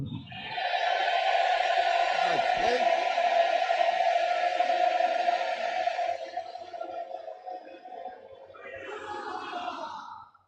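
A church congregation with hands raised lets out a loud, sustained collective shout, a long echoing roar in a large hall that fades, then swells briefly again.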